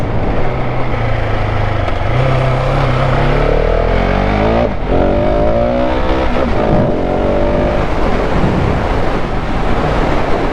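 A KTM 690 SMCR motorcycle engine revs loud and close during a wheelie, its pitch rising and falling through gear changes over constant wind rush.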